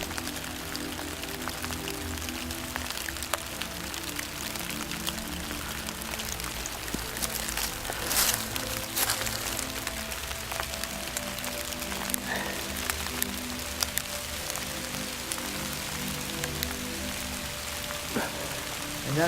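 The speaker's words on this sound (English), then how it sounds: "we see that there's water flowing." Water trickles out from under a pile of wood chips and branches into a wetland. The splashing is steady and fairly faint, with frog croaks in the background.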